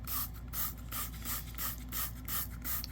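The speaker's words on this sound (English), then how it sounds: "You want to spray it." A trigger sprayer mists Bristol Clean spotter cleaner onto a carpet spot in a quick, regular series of close, hissing bursts.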